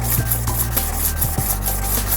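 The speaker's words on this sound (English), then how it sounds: "we use a 220 grit stone to remove the edge that the wheel created." A 220 grit stone rubbed along a hockey skate blade edge to take off the rolled burr left by the sharpening wheel, giving a steady close abrasive rasp with repeated strokes and no talk.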